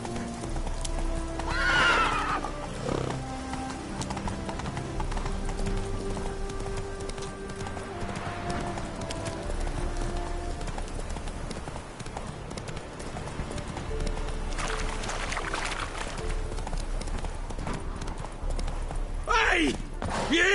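Roach the horse in The Witcher 3, steady clip-clop of hooves with neighs and whinnies, close and fairly loud, with occasional game sounds and a voice over the top.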